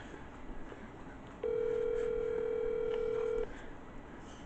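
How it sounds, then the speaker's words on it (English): A single steady ringing tone from an outgoing phone call placed by Siri sounds for about two seconds, loud and close, over faint room noise. "Siri, call Ed Fine home. Calling Ed Fine. Home"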